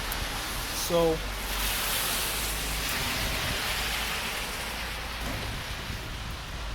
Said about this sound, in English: it's actually raining hard out here